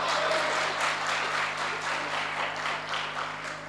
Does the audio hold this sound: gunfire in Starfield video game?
no